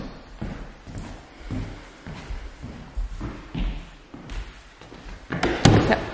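Doors swinging shut in a house the family is moving back into, giving a run of dull thumps and soft slams at an uneven pace, close by, ending in a louder knock.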